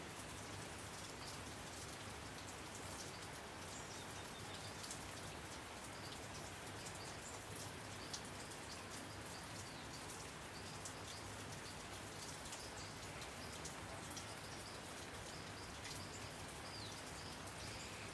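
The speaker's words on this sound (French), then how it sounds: "Il pleut" Steady rain pours throughout during the rainy season, a dense, even hiss of drops falling and pattering on surfaces, with faint bird chirps now and then far in the background.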